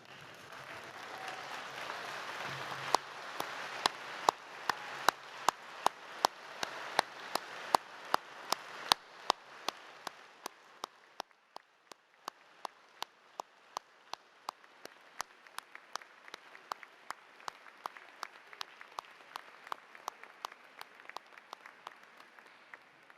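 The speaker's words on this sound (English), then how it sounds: "would you please stand up, turn around and give them a round of applause by way of a thank you" Graduation ceremony audience at Queen Margaret University in Edinburgh applauding in a hall, soft dense clapping that thins out into sharp, scattered individual claps carrying on for some time, fairly distant and quiet.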